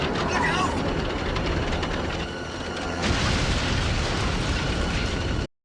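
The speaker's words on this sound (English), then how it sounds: "I don't think that would have exploded like that." A plane crash-landing and exploding in an X-Files TV episode: a loud, sustained roaring burst that swells again about midway and runs continuously until it cuts off abruptly.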